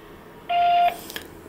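A TP-Link MR-6500v router phone line gives a single steady electronic beep lasting about half a second while a call is dialed, followed by faint noise.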